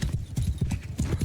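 Horse hooves from the video game Mount and Blade 2 Bannerlord, a quick run of close clip-clop beats galloping in a steady rhythm over a low background.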